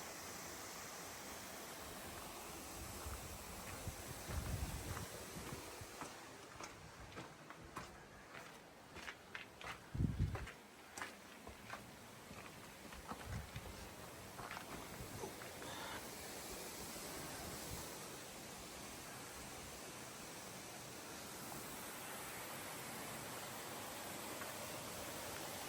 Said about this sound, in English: Alright, so this is Jump Creek Falls.